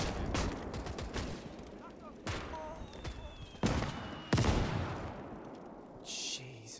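Mortar fire in the German campaign of the Eastern Front war game OstFront. Several sharp, loud blasts burst out at irregular intervals amid crackling gunfire and a low rumble.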